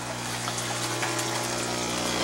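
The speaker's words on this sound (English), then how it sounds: "So I can see all the water all the time, making sure it's flowing" Water runs steadily through a clear 1-inch Schedule 20 PVC pipe in an aquaponics system, a constant soft gushing hiss with a low pump hum beneath, quiet and unbroken.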